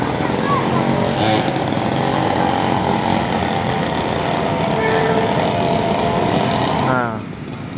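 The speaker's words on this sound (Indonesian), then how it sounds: "Nah, ini untuk adik-adik kita main motor-motoran" Children's mini motorbikes ride near Jakabaring lake in Palembang, a steady buzzing small-engine whine running loud and close throughout, with voices in the background and the engine tone shifting near the end.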